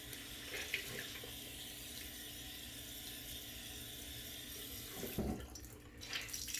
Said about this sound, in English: I'm running pure cold water in my washcloth.